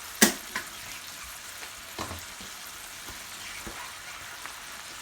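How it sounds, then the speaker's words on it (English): Eggs fry in a pan with a soft, steady sizzle, a sharp crackling pop at the start and a few faint ticks after it. "start cracking your eggs into your pan"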